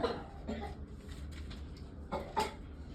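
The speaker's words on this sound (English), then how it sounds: "if you're gonna keep coughing," A student coughs in a classroom, two short faint bursts near the start and two more near the end, against quiet room noise.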